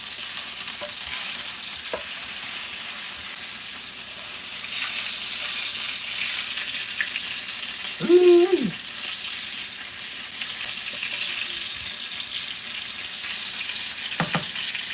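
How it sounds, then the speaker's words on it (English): Burgers fry in a pan with a steady soft sizzle that runs throughout, broken by a brief louder vocal exclamation midway and a faint clink near the end. "Now we're frying burgers."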